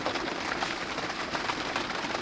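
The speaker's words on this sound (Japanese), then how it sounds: "雨降ってきましたね。" Rain falls steadily at a campsite on Awaji Island while boar-pig meat grills on a roof tile: a constant, even hiss of drops at moderate level, with no talking.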